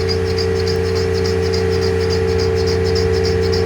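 A line boring machine cuts at 180 RPM during repair of an extreme reach forklift, giving a loud, steady mechanical whir with strong constant hum and a faint rhythmic pulsing above it, no talk.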